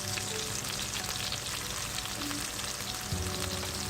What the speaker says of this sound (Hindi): चिकन बहुत अच्छी तरह से सौते हो गया। अब इसमें डालें 1 टेबलस्पून अदरक चॉप किया हुआ।